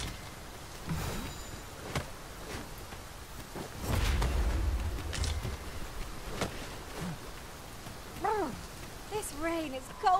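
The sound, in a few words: rain in video game Dragon's Dogma 2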